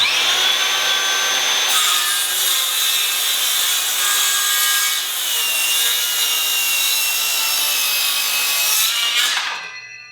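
A Makita sub-compact 6.5-inch circular saw making a 45-degree bevel cut through wood, a loud, steady high-pitched whine with the blade biting continuously for about nine seconds before the motor winds down at the end.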